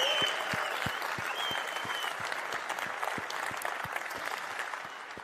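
Steady applause from a group, many hands clapping continuously and fairly close, with a few distinct sharp claps standing out over the dense patter.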